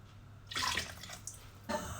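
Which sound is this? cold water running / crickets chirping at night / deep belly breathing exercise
cold water running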